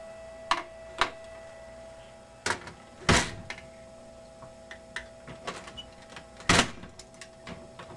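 The door of a Pachislo slot machine is worked shut, with a series of sharp clicks and knocks, two louder thuds among them, scattered over a faint steady electronic hum.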